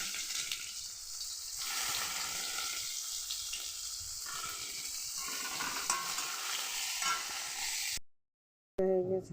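Chopped tomatoes and onions fry in a pan with a steady, close hiss of sizzling, broken by spatula scrapes and stirring, before the sound cuts out near the end.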